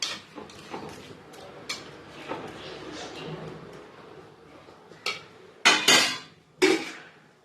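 Spoon scraping and clanking against a pot while prawn curry is stirred, irregular metallic knocks with a few sharp louder clanks near the end, under soft speech.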